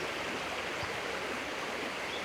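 A river flows with a steady, even wash of water, moderately faint and continuous, without any voices.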